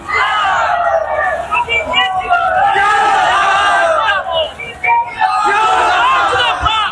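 BJP supporters at a Yogi Adityanath election rally in Bengal shout and cheer together in loud, sustained chanting bursts, a close, dense crowd roar with brief dips between waves.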